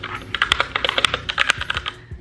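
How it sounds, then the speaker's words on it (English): Rapid, loud clacky keystrokes on a Keychron K6 wireless mechanical keyboard, typed in an uneven burst of sharp clicks heard up close with no talking. "that's why you hear that sound there when you type the keys. It's really loud and clacky, right?"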